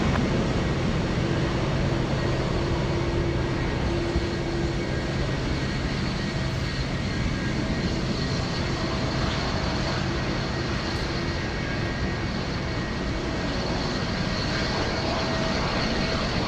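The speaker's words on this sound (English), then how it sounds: "We have a big 777. It's FedEx flying in from Singapore." A FedEx Boeing 777 arriving at Anchorage from Singapore produces a steady, loud jet-engine roar that holds broad and unbroken throughout, with a faint low hum underneath.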